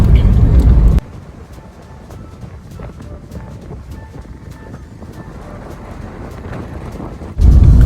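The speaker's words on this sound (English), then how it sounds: "We're driving through the lovely village of Heath now" A car moves along a narrow single-track country road near the village of Heath, its steady low road rumble and hum close and continuous, with louder bursts of wind buffeting the microphone at the start and end.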